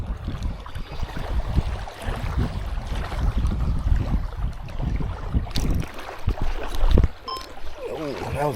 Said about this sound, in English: It's starting to get pretty windy.